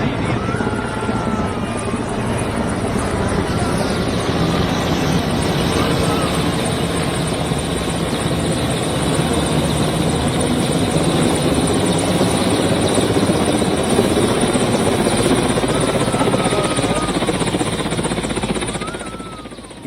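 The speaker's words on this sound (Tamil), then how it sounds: "இலங்கையிலிருந்து ஹெலிகாப்டர் மூலம் ராமேஸ்வரம் பிரதமர் மோடி வந்தடைந்துள்ளதை நாம் அண்மை செய்தியாக பார்த்து கொண்டிருக்கின்றோம்." A helicopter carrying Prime Minister Modi arrives at Rameswaram, a loud, continuous rotor drone and engine whine close by that holds steady before easing slightly at the end.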